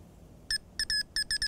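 Fladen bite alarm for fishing sounds a series of short, clean electronic beeps, six tones in an uneven rhythm, some brief and some held longer, loud and close over quiet background.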